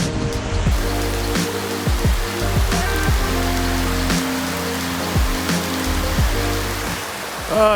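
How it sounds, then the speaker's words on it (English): Heavy typhoon rain from Typhoon Ode in Bohol pours down steadily, a dense continuous hiss close by with no voices. "It is pouring now."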